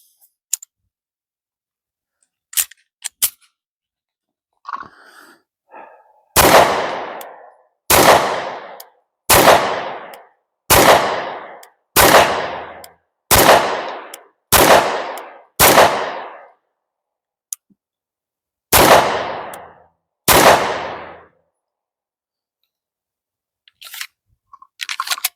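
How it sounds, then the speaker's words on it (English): SAR USA B6C pistol fired on a range, a slow string of about eleven loud sharp gunshots, each with a short decaying echo, spaced roughly a second or two apart, with handling clicks before and after. "let's go ahead and run the first shots through this"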